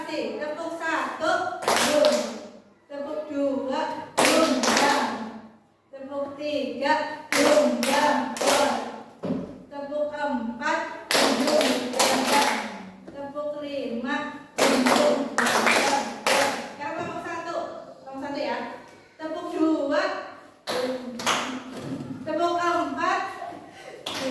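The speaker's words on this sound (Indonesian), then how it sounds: "Tepuk konsentrasi ya." A sixth-grade primary school class claps in patterned rhythmic bursts, groups of sharp hand claps separated by short pauses, while a teacher and children's voices speak between and over the rounds.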